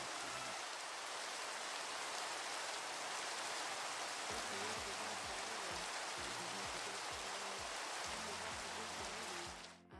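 Steady rain patters evenly for the whole stretch, a dense hiss of drops striking a hard surface, joined midway by low rhythmic thumps underneath.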